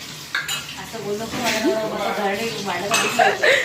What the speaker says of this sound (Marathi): भांडी घासायला खूप आवडतात